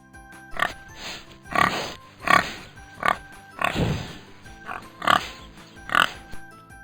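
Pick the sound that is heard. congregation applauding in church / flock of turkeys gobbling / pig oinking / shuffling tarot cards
pig oinking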